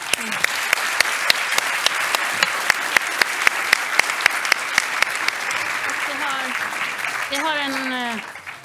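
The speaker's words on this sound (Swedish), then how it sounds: "Jag tycker vi tackar panelen med en varm applåd." Warm audience applause thanking a panel at the close of a climate-finance seminar, a steady patter of many hands for about eight seconds, then fading as a voice takes over near the end.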